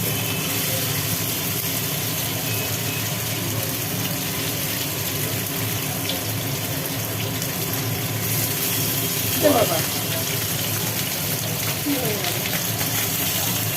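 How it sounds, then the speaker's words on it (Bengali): Bhetki fish fry in hot oil with a constant hissing sizzle, fairly loud and close, while a voice briefly speaks partway through. "মাছগুলো ভাজা হোক"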